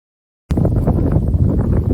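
After a brief silence, wind suddenly rushes across the microphone in a loud, continuous low rumble.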